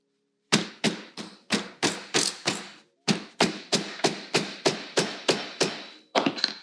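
Repeated sharp whacks of a seam-flattening whacker tool pounding the thick seam of a quilted fabric pouch, about sixteen close, loud hits in steady bursts with a short pause midway.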